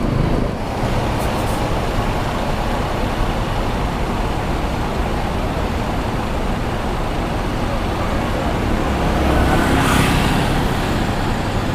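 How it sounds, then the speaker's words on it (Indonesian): An LBJ Panglima bus with a Neo Super Jet body travels along the road, giving a steady, loud broadband rumble of engine and road noise that holds without a break and swells slightly near the end. "LBJ Panglima Bus sudah siap untuk berangkat."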